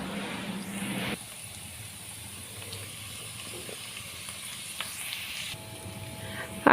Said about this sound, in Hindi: तब तक फ्राई करना है जब तक ये लहसुन और ग्रीन चिली का कलर चेंज ना हो जाए